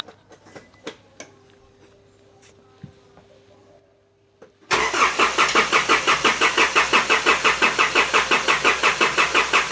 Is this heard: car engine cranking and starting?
yes